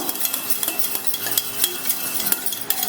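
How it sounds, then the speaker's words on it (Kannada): About a cup of curd beaten with a utensil in a bowl for ash gourd majjige huli: a quick irregular run of light clicks and scrapes, close and fairly loud, with no talk. "ಮೊಸರು ತೊಗೊಂಡಿದ್ದೀನಿ ಇಲ್ಲಿ ಒಂದು ಒಂದು ಕಪ್ನಷ್ಟಿದೆ ಅಷ್ಟೇ ಜಾಸ್ತಿ ತೊಗೊಂಡಿಲ್ಲ ಇದನ್ನು ಚೆನ್ನಾಗಿ ಬೀಟ್ ಮಾಡ್ಕೋಬೇಕು"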